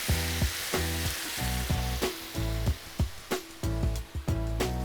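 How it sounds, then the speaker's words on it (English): Wine poured over garlic in a hot paella pan sets off a loud, crackling sizzle that bursts and fades in quick repeated surges, close by and with no talking. "We'll add a bit of wine in here."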